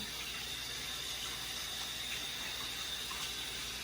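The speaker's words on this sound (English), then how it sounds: "Wash my hands again." Tap water runs steadily in a kitchen while hands are washed after stuffing salmon, a continuous even rushing hiss with no breaks and no talk.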